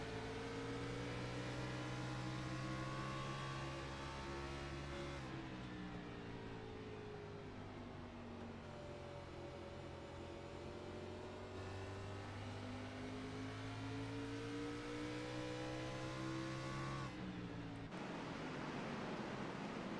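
Xfinity Series stock cars in a sim race at Richmond, engines droning loudly and steadily with rising and falling pitch as they accelerate, tires spinning on the straightaway, a continuous close roar with a brief shift near the end.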